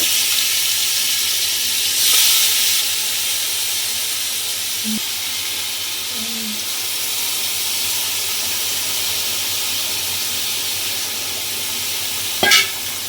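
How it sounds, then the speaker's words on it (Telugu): Mutton pieces sizzling in hot oil, a steady broad hiss running throughout with a brief surge early on and a sharp clatter near the end. "ఆయిల్ బాగా హీట్ అయ్యాక ఈ మటన్ ముక్కలు అందులో వేసాక"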